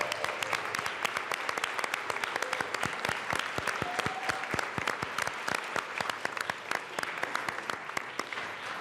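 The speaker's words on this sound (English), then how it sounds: "Let's give them a round of applause." Sustained, dense applause fills the Colorado House of Representatives chamber, with many hands clapping steadily and evenly at close range for the whole stretch.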